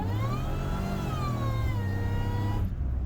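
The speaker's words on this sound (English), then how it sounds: "Just a couple of hard launches to whet your appetite so that you get a taste" A supercharged 3800 Pontiac Fiero launches hard, its engine revving loud and close with a rising whine that climbs steadily before cutting off near the end.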